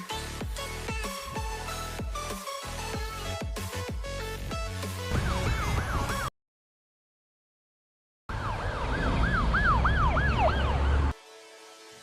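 An ambulance siren wails in rising and falling sweeps over a loud rhythmic music-like background, cutting out briefly before the siren returns alone, then stops.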